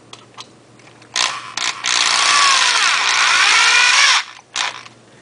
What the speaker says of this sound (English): I'm going to try and hold it freehand and drive the screw all at the same time.